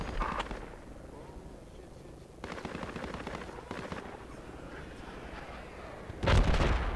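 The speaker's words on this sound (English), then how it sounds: "Someone's mortaring this place." Mortar shells exploding in the military shooter game Project Reality: a heavy boom lands close and loud near the end, with earlier rumbling blasts and gunfire-like bursts, and a brief voice is heard.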